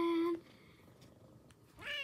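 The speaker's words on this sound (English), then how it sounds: "Oh, this is Frisco, by the way, my kitty" A pet cat meows in two short, loud calls, one opening and one rising at the end, with soft purring or low rumble in between in a quiet indoor room.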